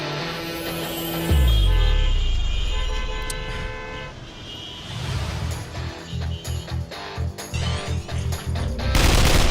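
Gunfire in the Free Fire video game: a heavy boom gives way to rapid, evenly spaced bursts of automatic shots, loud and dense.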